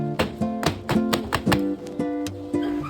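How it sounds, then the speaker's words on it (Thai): Tray of Thai tea cake batter tapped against a surface to release air, a series of about ten sharp, close knocks at an uneven rhythm with ringing metallic overtones. "เกลี่ยส่วนผสมให้ทั่วถาดให้เรียบเสมอกันจากนั้นก็เคาะเบาๆเพื่อไล่อากาศ"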